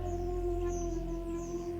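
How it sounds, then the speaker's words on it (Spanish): A powerful wolf-like creature howl as a sound effect, a sustained tonal wail held steadily under a dense, rumbling dark ambience. "Por último emitió un potente aullido."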